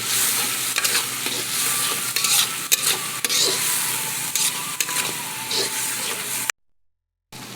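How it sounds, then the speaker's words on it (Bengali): Large boal fish bhuna with green chili stirred in a pan: close, busy sizzling and frying with repeated scraping and clinking of the utensil, then a brief break in the sound near the end. "এবারে একটু নাড়িয়ে চাড়িয়ে নিব।"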